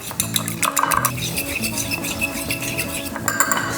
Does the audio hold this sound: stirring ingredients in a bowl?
yes